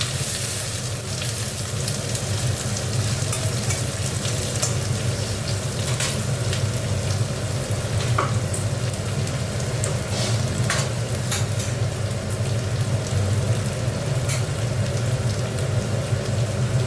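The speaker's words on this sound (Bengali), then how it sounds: "আলু পেঁয়াজ একসাথে দিয়ে দেবো।" Potatoes and onions fry together in a pan as the base for a spicy prawn curry, giving a steady, close sizzle with occasional stirring scrapes that continues evenly throughout, with no talking.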